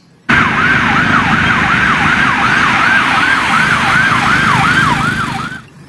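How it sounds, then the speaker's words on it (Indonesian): A toy police car's electronic siren wails loud and close in a fast, steady up-and-down warble, starting abruptly and running for about five seconds before cutting off. "Wah, mobil polisi."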